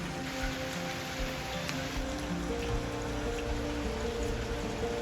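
Steady rain falls outdoors in Lviv, a dense even patter and hiss with no pauses or voices, moderately loud and unchanging throughout.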